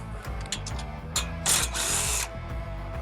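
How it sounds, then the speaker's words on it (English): A flathead screwdriver works bolts loose from the bottom of a trampoline frame, giving a series of close metallic clicks and ratcheting scrapes with a louder grinding burst midway, no talking. "take the bolts out around the trampoline on the bottom"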